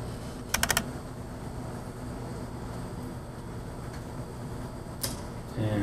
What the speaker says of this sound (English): my very cold fingers typing the address in correctly